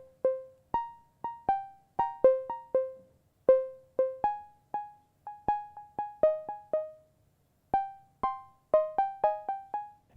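Plucky Elektron Syntakt synthesizer notes through a delay effect in a sparse melodic pattern, each followed by quieter repeating echoes that trail off, with short gaps between phrases.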